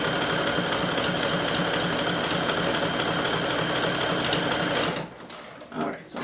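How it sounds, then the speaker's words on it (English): A sewing machine runs a long straight basting stitch across a crocheted cardigan with a steady, loud, fast mechanical whir and rhythmic needle chatter, then stops near the end as faint movement follows. "now I'm gonna go ahead and just baste with just a regular straight stitch and the longest length"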